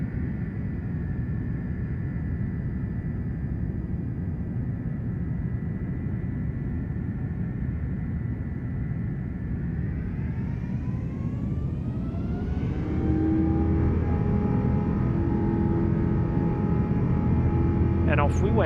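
An A330-900neo airliner in X-Plane 12 on approach into Barcelona drones with a steady engine roar, then its whine shifts upward as thrust changes, sustained and prominent throughout.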